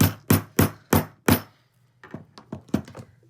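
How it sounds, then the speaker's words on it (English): A hammer striking a setting tool to fix a Dritz metal snap: five loud, sharp, evenly spaced blows, followed by a run of lighter, quicker taps. "then I can hammer"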